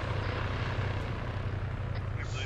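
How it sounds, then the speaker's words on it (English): A military helicopter thumps steadily at close range, a dense loud rotor and engine roar that fills the whole stretch without pause. "you wanna ride in the chopper up again?"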